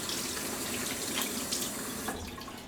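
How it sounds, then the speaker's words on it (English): Water runs steadily from a kitchen faucet as hands are rinsed, a continuous close splashing hiss that carries on for a few seconds before tapering slightly. "Get these hands rinsed off."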